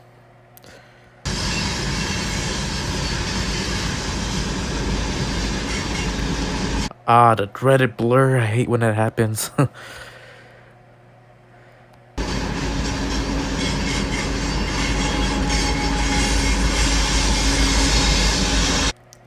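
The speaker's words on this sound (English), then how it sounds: "basically a few minutes since this train started crossing" A long freight train of tankers with mid-train locomotives rolls past in a loud, sustained rumble and clatter, broken by a brief stretch where someone speaks, then the heavy rolling noise returns.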